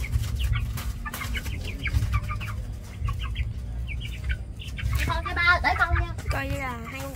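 Dong Tao chickens on a Vietnamese farm give a series of short, repeated clucks, close and clear, and people then talk over more clucking.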